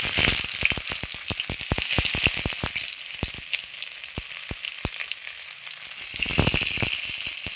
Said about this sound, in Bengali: চাল কুমড়োর পাতা দিয়ে লোটে শুটকির পুরগুলো আমি এক এক করে ছেড়ে দিচ্ছি